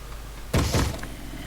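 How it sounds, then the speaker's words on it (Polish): A zombie pounds on a wooden door in Minecraft, giving two heavy, close thuds in quick succession against a quiet background. "Teraz będzie walić drzwi."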